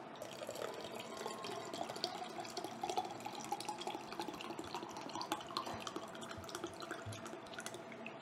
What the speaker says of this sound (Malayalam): അത്രയും നിറച്ച് തന്നെ വെള്ളം ഒഴിക്കുക കേട്ടോ.